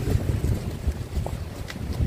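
Steady low wind rumbles and buffets across the microphone outdoors on a cool February night in Vientiane, Laos, continuous and fairly loud, with no voices.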